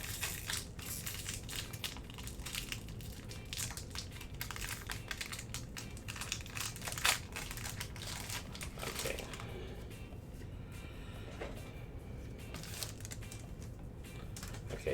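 Pokémon TCG Astral Radiance card packs being opened, with continuous close wrapper crinkling and crackling, dense and busy at first and thinning out toward the end.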